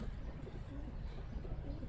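A pigeon with white feet and a striped tail coos softly and continuously at close range, its low, rolling calls steady against a faint background.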